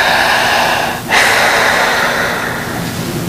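Long, deep breathing during a hypnosis session: a steady, close airy breath that fades briefly, then returns in a strong sustained exhalation, with no talking over it.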